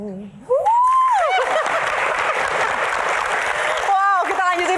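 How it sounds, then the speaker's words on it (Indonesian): An audience at a Q&A event breaks into applause, a loud dense burst of clapping that starts abruptly and holds steady for several seconds, with a brief voice near the start and again near the end. "Tepuk tangan lagi dong buat Mutia"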